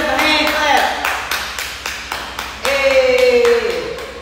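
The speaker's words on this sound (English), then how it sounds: "Give yourself a hand clap." A few separate hand claps ring out close by after a home workout, with a voice talking over them.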